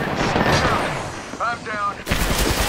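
Apex Legends gunfight with loud, close bursts of rapid gunfire followed by a sharp heavy shot, with voices or game callouts underneath.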